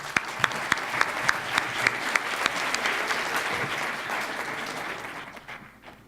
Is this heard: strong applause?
yes